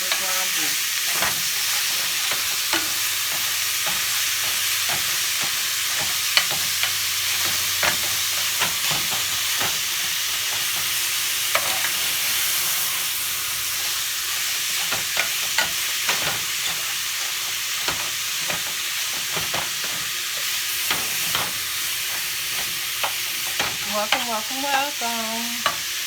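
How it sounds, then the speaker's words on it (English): Ground beef sizzles and fries steadily in a pan for a quesadilla filling, with a utensil scraping and breaking it up in repeated clicks and scrapes close by; no one speaks. "And now I am going to break up this ground beef."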